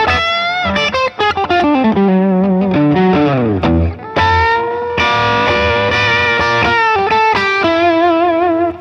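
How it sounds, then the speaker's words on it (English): A distorted Taylor T5 electric guitar plays a loud, sustained melodic line with bends and held notes, crunchy and saturated, with no talking. "Also, it's got a nice edge for distortion."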